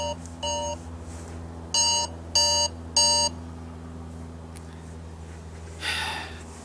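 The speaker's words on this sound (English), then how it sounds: "Sorry, that was my drug timer." A medication timer beeps in short electronic bursts, one faint pulse, then three louder tonal beeps in quick rhythm, followed later by a breathy exhale over a steady low indoor hum.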